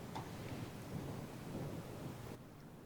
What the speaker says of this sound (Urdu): مونسون بارشوں کا طوفانی اسپیل زور و شور سے جاری ہے۔